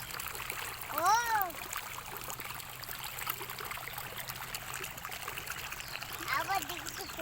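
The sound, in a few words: water splashing and flowing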